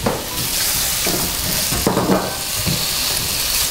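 Chicken pieces dropped into a hot pan for mulligatawny soup, giving a loud, continuous frying hiss with a few stirring scrapes, close and steady, no voices.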